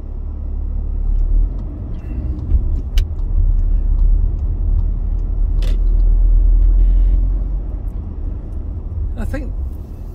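A car rolls along a road in Boghall, Bathgate, West Lothian in February, its engine and tyres giving a steady low rumble from inside the cabin that swells and eases, with brief clicks and rattles on top.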